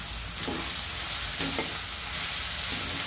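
Homemade onion-garlic masala and black masala for spicy Maharashtrian tarri misal sautéing in hot oil, a dense continuous sizzle close up with a few spoon strokes scraping through it.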